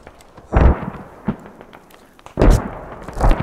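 Gunfire in the video game Squad, a few sharp, loud booming shots in irregular bursts with a brief lull between them.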